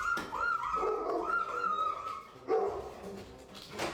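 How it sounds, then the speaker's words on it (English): A dog barks and yips in short bursts, moderately close, with whimpering tones between barks and no talking over it. "Oh, that's a loyal doggo."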